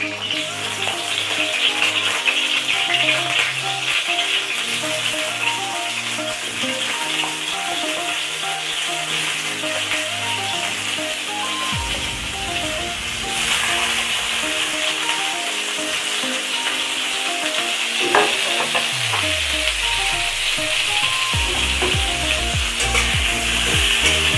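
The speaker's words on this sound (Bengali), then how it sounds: "আলুগুলো একদম লাল লাল করে আমি ভেজে নেব" Potatoes frying in hot oil for a Bengali chicken curry, a steady broadband sizzle and crackle that runs the whole time with occasional stirring and clatter, close and fairly loud, no talk.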